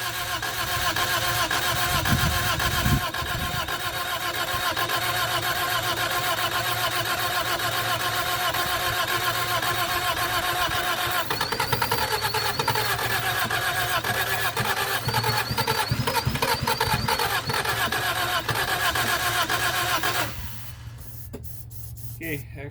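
A 1978 Honda Civic engine that sat for 26 years, cranking with a steady mechanical churn and rough running noise near the mic for about twenty seconds before cutting out, with voices mixed in.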